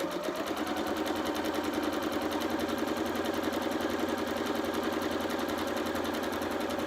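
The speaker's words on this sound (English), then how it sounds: "Just going to start sewing, do a couple of stitches back stitch" A sewing machine stitching fabric bunting runs at an even, rapid rhythm, a close and continuous mechanical whir with no pauses.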